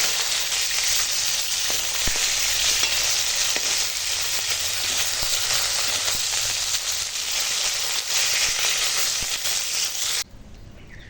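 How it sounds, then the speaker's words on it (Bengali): Hot oil sizzles steadily and loudly in a pan after khoira fish has been fried in it, a dense continuous crackle that runs unbroken for about ten seconds before cutting off abruptly. "দেখো মাছ ভেজে তুলে নিয়েছি,"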